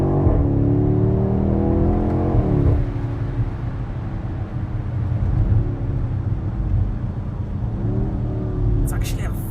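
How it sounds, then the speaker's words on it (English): A 2021 BMW X6M Competition, 625 PS with 750 Nm, accelerates from inside the cabin, its engine rising in pitch through the gears in a strong low rumble that eases and builds again. "It's actually a very strong engine."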